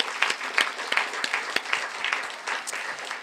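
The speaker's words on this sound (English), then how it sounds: "Can we give her a round of applause?" An audience at a policy event on paid family leave and early childhood care gives a short round of applause, scattered claps close by with a modest crowd behind them for a few seconds.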